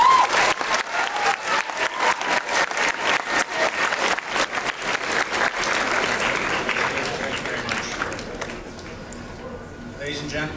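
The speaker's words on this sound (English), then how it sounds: "Once again, a round of applause for the Cunningham sisters." A school assembly audience claps in a dense, rhythmic patter that gradually thins out and fades toward the end, with a voice speaking over it.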